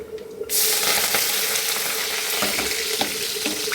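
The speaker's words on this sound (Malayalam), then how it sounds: "ഇച്ചിരി വെളിച്ചെണ്ണ ഒഴിച്ചു. ഇതിലേക്ക് കടുകിട്ടു" Mustard seeds crackle and sizzle in hot coconut oil for a home-style country chicken curry tempering, a loud, dense frying hiss that starts abruptly and holds steady, with scattered sharp pops on top.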